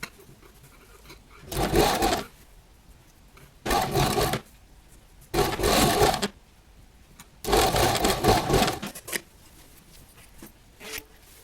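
A sewing machine stitches a girl's party gown in four loud bursts of rapid whirring, each a second or two long, separated by short quiet pauses.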